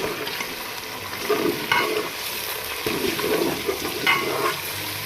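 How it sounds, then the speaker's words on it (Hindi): Garlic, ginger and green chili paste fries with chicken and onions in a pan, giving a steady sizzle broken by repeated scraping stirs, close and fairly loud. "अब हम इसको अच्छे से भून लेंगे।"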